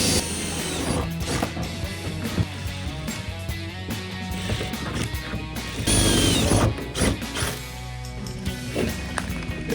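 A power drill grinds loudly and unevenly through plastic while fitting a rear spoiler on a 2016-2024 Camaro, with rattling bursts and a sharper jolt partway through, close up and without speech.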